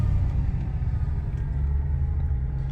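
A Mercedes-AMG engine turned on with the key, heard as a deep, steady idle rumble, close and loud throughout with no distinct start-up burst and no voices.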